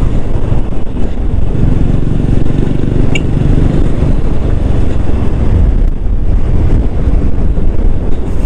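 Strong, steady wind roar buffeting the microphone throughout, with a low engine rumble underneath from a Honda Wave 125 motorcycle riding at speed.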